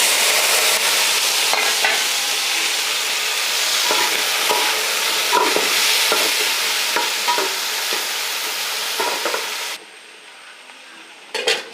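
Vegetables fry and get stirred in a pan after mustard seeds and curry leaves, a steady loud sizzle with scraping stirring strokes throughout, dropping abruptly to a quieter hiss near the end.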